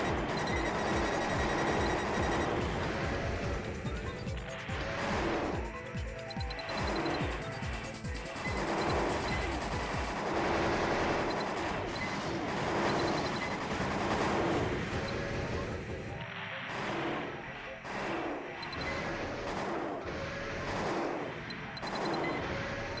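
Heavy mech weapons fire in the Armored Core: Project Phantasma game, with repeated loud rhythmic shots and booming blasts under players talking, thinning out toward the end.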